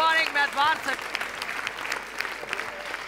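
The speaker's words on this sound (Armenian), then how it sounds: "բարձր ենք ծափանենք" A studio audience at a club show breaks into loud, sustained applause. A host's voice rises briefly over the clapping at the start.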